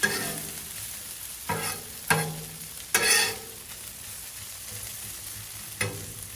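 Bacon and vegetables sizzle steadily on a Blackstone flat-top griddle for a breakfast burrito, with a constant frying hiss broken by several sharp scraping stirs of a spatula.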